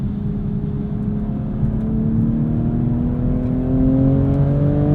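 A 2022 BMW M240i xDrive coupe with the B58 engine and 8-speed ZF gearbox accelerates hard from inside the cabin, a loud, smooth drone that climbs steadily in pitch throughout, with no talking.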